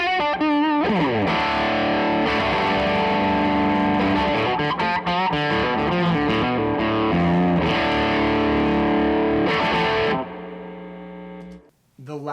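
Heavily distorted electric guitar through a Tone King Falcon Grande amp on its lead voicing, playing a loud sustained lead line with bends and held notes, ending in a ringing final note that cuts off.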